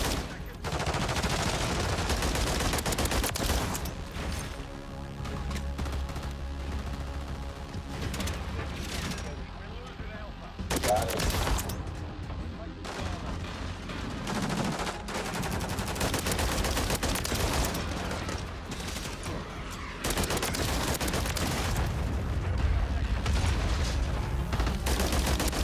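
Close-range gunfire from a Holger 556 with the JAK Backsaw conversion in the video game Modern Warfare III, a dense and almost continuous rattle of rapid shots and bursts mixed with other game sounds and voices.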